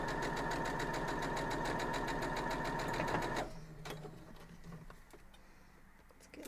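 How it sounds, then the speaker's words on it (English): A sewing machine stitches quilt block fabric in a rapid, even mechanical chatter for about three seconds, then stops, leaving quieter handling clicks and rustles. "Let's go sew that up."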